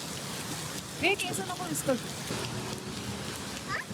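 Steady rain patters in a broad hiss, with brief voices and small sounds popping up over it now and then.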